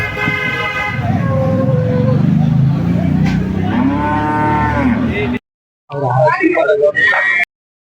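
Cattle at a crowded cow market lowing repeatedly, several long moos rising over a busy background of chatter and traffic, with a car horn tooting and people talking nearby.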